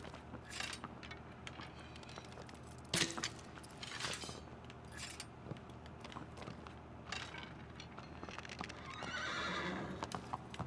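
A horse in the video game Shadow of the Colossus, with hoof clip-clops and several sharp neighs over a steady low background, fairly faint and mixed with game effects.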